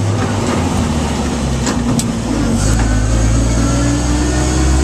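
A 1948 Dodge truck engine pulls hard after a shift from second to third gear, a loud, close, steady drone that swells as it accelerates up a slight hill, with no talk over it.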